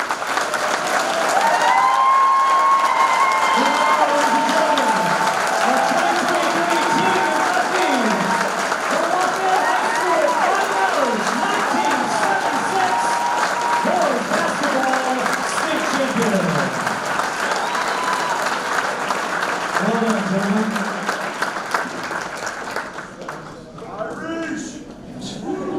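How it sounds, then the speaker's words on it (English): Big audience at a sports hall of fame ceremony applauding a high school basketball team, a sustained dense roar of clapping with some cheering, loud and continuous for over twenty seconds before it thins out at the end. "Ladies and gentlemen, how about another big round of applause for the"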